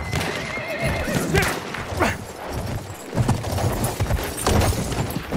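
A horse whinnies loudly and gallops with pounding hoofbeats on a battlefield, amid a busy, noisy mix with distant booms and gunfire.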